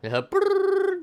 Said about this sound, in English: Sounded like an office phone.